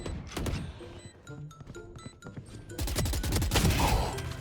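Rapid bursts of gunfire in a shooting video game, sharp repeated shots and volleys crackling close and loud, with dense automatic fire swelling in the second half.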